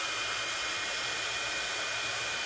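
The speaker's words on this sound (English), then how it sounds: "I'm gonna just hit this just for a moment with the heat tool just to make sure that it's dry" Heat tool drying freshly stamped ink blows a steady, close, loud hiss of hot air, continuous and unbroken for the whole moment with no voices.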